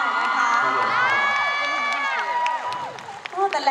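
An audience at an adult-division dance competition prelim cheers and claps for the Urban Squad crew, loud crowd shouts and whoops over a wash of applause, with shrill voices rising and fading near the end.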